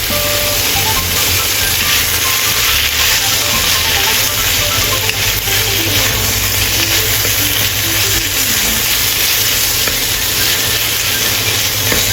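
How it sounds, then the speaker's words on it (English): Stir-frying with oyster sauce in a wok, a loud continuous sizzle and hiss with steady low rumble, unbroken for the whole stretch. "Add a tablespoon oyster sauce and stir fry."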